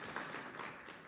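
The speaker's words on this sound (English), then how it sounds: "let's give her a round of applause" Audience applause at a business forum on consumer goods and services, a dense steady patter of many hands clapping at once, fairly quiet and distant, lasting about a second with no voices over it.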